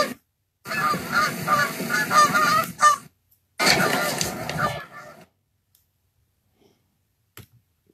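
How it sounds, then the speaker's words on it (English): A large flock of geese, around three hundred, honking in an open winter field, the dense clamor coming in two loud bursts separated by a short pause, then fading to near silence with a few faint calls. "I'm just filming a bunch of geese in the field last winter, and there's probably 300 honkers in this field"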